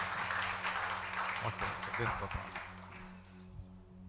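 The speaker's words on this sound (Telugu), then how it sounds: "చప్పట్లు కొట్టి మేమపరుచుకుందాం" A congregation claps and applauds at a Telugu church service: a soft, distant wash of clapping that fades out, with a voice over it.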